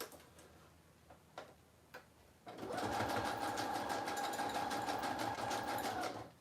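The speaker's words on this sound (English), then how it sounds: "I'm going to do like a swirly kind of stitch." A sewing machine runs a swirly decorative stitch on a journal collage page in a steady rapid ticking hum for several seconds, preceded by a few soft clicks and taps.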